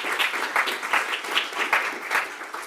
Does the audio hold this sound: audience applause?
yes